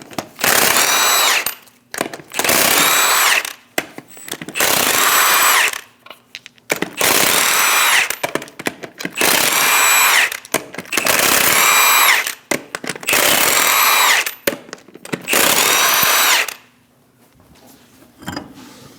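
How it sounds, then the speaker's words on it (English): A power tool fitted with a 22mm socket spins off the lug nuts on the rear wheel of a Chevrolet Express 2500 van, sounding as about eight loud, close whirring bursts separated by short pauses, then going quiet. "Using a 22mm socket,"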